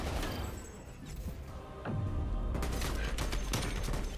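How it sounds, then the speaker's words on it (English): Rapid video game gunfire from a shooter match involving grenade kills, a dense burst of shots and impacts that grows louder midway and keeps rattling close and continuous. "how is he shooting behind me?"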